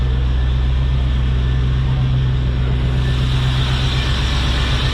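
A 1989 Chevrolet C4 Corvette's L98 TPI 350 (5.7-liter) V8 idles steadily and loudly, a dense unbroken engine rumble with no voices over it.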